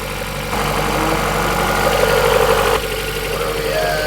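Close-up, a 1992 Honda Civic engine with a B18C swap idles steadily just after firing up following a no-start fuel problem, giving a continuous low hum that rises briefly before settling, with no voices over it.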